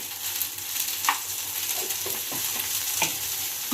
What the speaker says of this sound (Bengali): এখানে বেশ কিছুক্ষণ আমি ডাঁটাগুলোকে ভেজে নিয়েছি